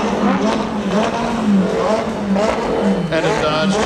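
Sports cars including a late-model Mustang, a Lamborghini and a GTR cruise out of the SEMA show, engines rumbling and revving steadily nearby amid crowd chatter and voices.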